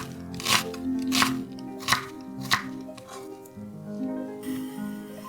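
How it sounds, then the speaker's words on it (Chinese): Knife slicing onion into thin strips on a board gives a series of crisp, close crunching cuts at a steady, unhurried rhythm, about five distinct strokes with softer scraping between. "洋葱切细丝"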